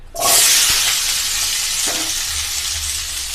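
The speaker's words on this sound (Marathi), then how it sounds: "त्याच्यामध्ये हे मी मगाशी दाखवल्याप्रमाणे सर्व बटाटे शेवगा फ्लावर सोयाबीन हे सर्व रोस्टेड करणार आहे" Potatoes, drumstick pods, cauliflower and soybeans sizzle and fry in a little oil in a pan, a loud steady hiss starting abruptly with a few stirring clinks, no talk.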